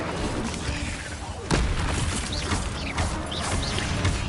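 An Incendio fire spell blast from a Harry Potter video game, one sudden loud whoosh and boom partway through, over a steady bed of game ambience and faint voices.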